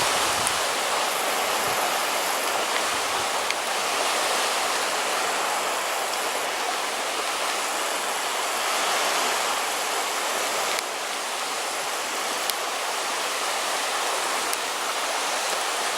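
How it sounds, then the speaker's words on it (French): Water in a bay on the coast of Brittany gives a continuous close hiss and wash of small waves, steady and fairly loud throughout with no voices. "le son de l'eau est toujours présent"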